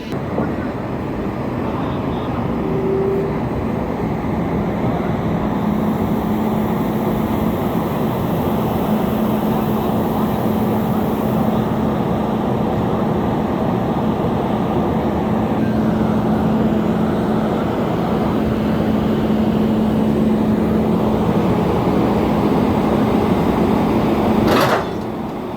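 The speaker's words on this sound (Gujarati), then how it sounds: "અમૂલ વડોદરા લોકોમોટિવ, વડોદરાનું લોકોમોટિવ છે." A train hauled by a Vadodara-based WAP-5 electric locomotive in Amul livery runs along with a loud, continuous rushing roar and a steady low hum, followed by a brief sharp clank near the end.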